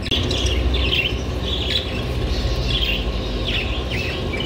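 Lovebirds chirp at an open-air bird market in Baghdad, rapid high-pitched tweets repeating in quick bursts over a busy, rumbling market background.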